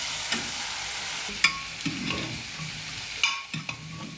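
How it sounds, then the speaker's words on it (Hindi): Kidney beans being added to a prepared masala in a pan and stirred, giving a few scraping, sizzling knocks spaced over a soft frying hiss, close and fairly quiet with no talking. "अब मैं डालूंगी इसमें राजमा, ये मसाला तैयार हो गया राजमा का"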